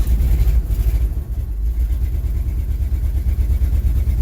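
A V8 car engine cranks and catches after a cold start, then runs unevenly with a rough, low idle that lopes and stumbles close by, steady and fairly loud, with no talk over it.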